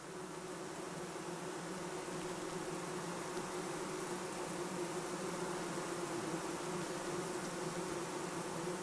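Honey bees inside a hive, packing pollen into cells, make a dense, continuous buzzing drone that holds steady and close with no pauses.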